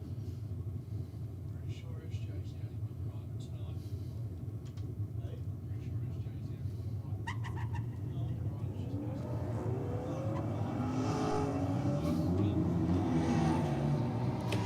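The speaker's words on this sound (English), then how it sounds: "Brian, I think, is behind the wheel now of the Commodore, and he's taking on the brand new Toyota Supra" Drag race between a Holden Commodore and a brand new Toyota Supra: a steady engine rumble builds into a loud, rising rev roar toward the end, with crowd or announcer talk underneath.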